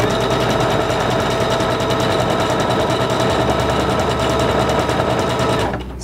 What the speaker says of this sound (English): And I'm going to sew it out.